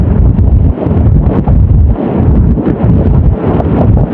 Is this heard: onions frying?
no